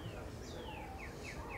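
Galah cockatoos call at an aviary near the aquarium exhibit at the Fort Worth Zoo in Texas, with several thin descending squawks repeating over a steady, noisy outdoor background.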